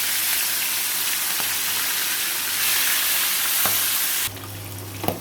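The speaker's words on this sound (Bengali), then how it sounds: "এখন মাছগুলো দিয়ে দেবো সব দিয়ে দিচ্ছি হালকা ভেজে দেবো মাছগুলো" Pieces of magur fish lightly frying in hot oil, giving a dense, loud, continuous sizzle close by that drops off sharply near the end, followed by a couple of faint clinks.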